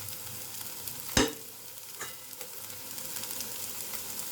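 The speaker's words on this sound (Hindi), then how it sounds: "अब मैं इसके अंदर थोड़े मसाले डालूंगी।" Red chili powder, turmeric and coriander powder are stirred into a pan with onions, making a soft, low sizzle with one sharp scrape of a spoon early on and faint stirring afterward.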